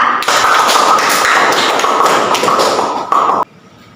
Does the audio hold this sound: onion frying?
no